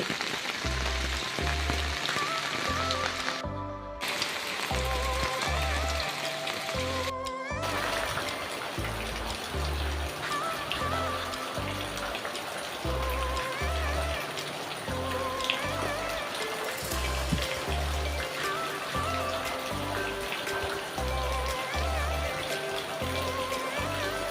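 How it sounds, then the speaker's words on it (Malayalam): Heavy rain pours down in a cold monsoon setting as a steady, dense hiss, with a repeating low thumping pulse running beneath it throughout. "അപ്പോൾ ഭയങ്കര തണുപ്പ്, നല്ല മഴ."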